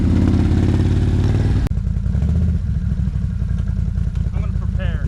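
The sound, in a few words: Someone's Renegade 1000 engine on hill run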